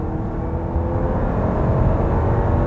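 A 2018 Volkswagen Tiguan engine pulls hard in sport mode, a steady close rumble of engine and road noise building gently, with no voices.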